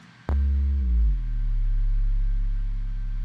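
Synthesized sine wave in an electronic music production, a pure steady tone that steps down in pitch after a sharp onset and then holds level, with no talk over it.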